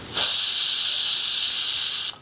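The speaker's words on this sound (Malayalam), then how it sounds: "അങ്ങനെ കാത്തു കാത്തു നിന്ന് ഒരു വിസിൽ വന്നിട്ടോ" A short, loud burst of steam hissing out under pressure, holding steady for about two seconds before cutting off abruptly.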